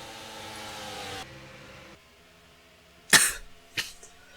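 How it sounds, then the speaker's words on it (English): Someone gives a short sharp cough, then a second, fainter one, close and alone after a quiet stretch with faint background noise. "I had a little cough there"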